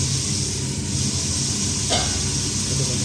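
Bitter gourd fries with salt in a pan, giving a steady close sizzle with a soft stir or scrape near the middle and no talking.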